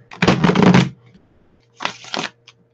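A tarot card deck is riffle shuffled in two bursts of close, crisp rapid card flutter, a longer one then a shorter one, separated by a brief quiet gap.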